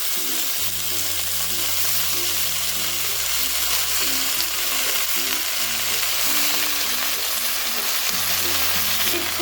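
Malabar spinach leaves going into onions frying in a pan, a loud continuous sizzle and crackle with rhythmic low stirring, close and constant throughout.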